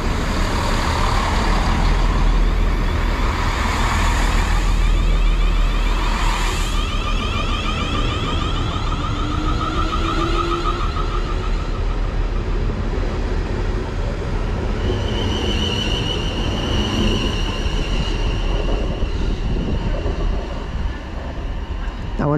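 Trains depart and arrive at a railway station platform in Hampshire, including a unit heading to Redhill, with a continuous loud rumble, a rising electric motor whine and hissing brakes, as someone talks over the noise.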